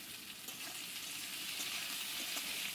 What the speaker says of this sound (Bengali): হালকা করে একটু কষিয়ে নেব আলু আর বেগুনটাকে।